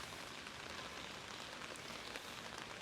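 Rain falls in a steady, even patter on surfaces, a faint continuous hiss with no voices.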